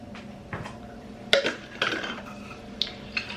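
A container of juice with capsule powder being shaken, giving several short clattering knocks and rattles at close range with quiet gaps between them.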